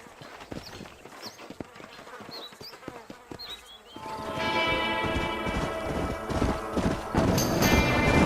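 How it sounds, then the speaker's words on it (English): Horses' hooves clip-clopping in a Western game set near Armadillo, irregular hoofbeats with buzzing insects and a whinny, the sound growing denser and louder about halfway through. "These are fine horses."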